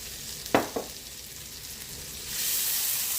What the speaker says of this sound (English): we're going to add some butter to our pan. Sometimes I like to add a little oil to it.